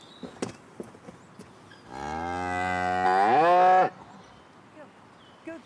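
A dairy cow moos once in a barn stall before milking, a long, loud, rising low call lasting about two seconds, with quiet stall noises before and after.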